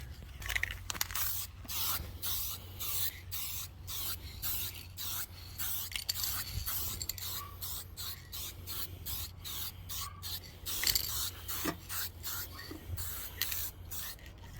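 Spray paint going onto a part of a 1996 Mitsubishi Mirage Asti ZR in rapid short bursts, close and fairly steady throughout, over a low background hum.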